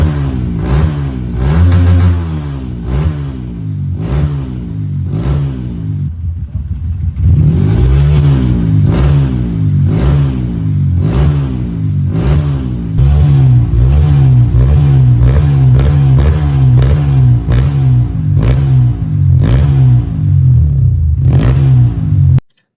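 A bored-up Honda CRF 180cc motorcycle engine revs repeatedly, close and loud, its rising and falling throttle blips coming in quick succession over a steady idle, with no talk.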